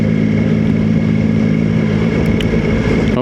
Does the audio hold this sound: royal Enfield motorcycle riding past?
yes